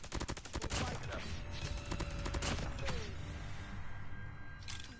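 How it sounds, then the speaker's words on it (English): Rapid bursts of gunfire from a gun being tap fired in a video game crackle loudly, with closely spaced shots in quick clusters, then a few sparser pops and mechanical clatter. "I'm just tap firing"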